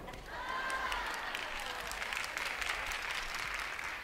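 Audience applause at a Gershwin piano medley concert, steady clapping with some cheering that rises after a quieter start and holds at moderate level.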